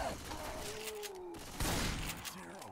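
Gunfire erupts in Left 4 Dead 2 during the final campaign confrontation, a burst of shots cutting through a busy game mix with a brief voice under it.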